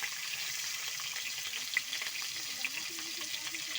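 Eggs frying in a pan for a home meal, a continuous bright sizzle and crackle heard up close, with a faint voice murmuring underneath.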